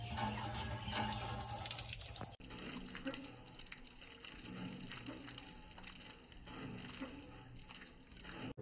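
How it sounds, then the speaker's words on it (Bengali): Water runs from an outdoor tap in a garden, a steady close gush that continues throughout, briefly louder and brighter at the start before settling into an even flow. "আর এই দেখো হচ্ছে কল।"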